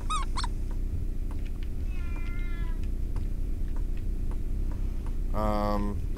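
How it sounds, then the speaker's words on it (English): A cat in the video game Shogo Mobile Armor Division meows several times over a steady loud background rumble, with a clearer, louder meow near the end. "I will get that motherfucking cat."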